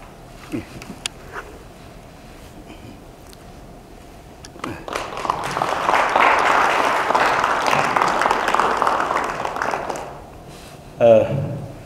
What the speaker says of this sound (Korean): 나오실 때 뜨거운 박수로 환영해 주시기 바랍니다